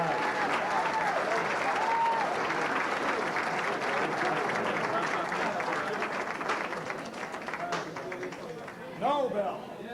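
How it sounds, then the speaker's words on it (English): Audience at an athletic hall of fame induction ceremony giving a sustained round of applause, dense clapping that stays loud for most of the stretch before thinning out, with some voices near the end. "how about one more big round of applause for all of our Hall of Famers in attendance tonight"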